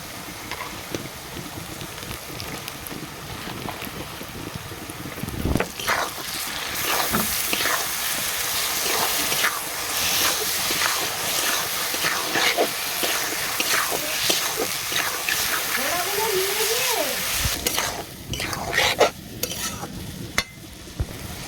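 Small shrimp fry in a hot pan with oil, a steady loud sizzle broken by scraping stirs and clatters of a spatula, with a brief voice near the end.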